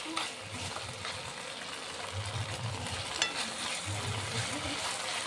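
Tomato sauce poured into a pan for chilli paneer sizzles and fries steadily, with soft stirring scrapes and a few low bubbling pulses, close and moderately quiet.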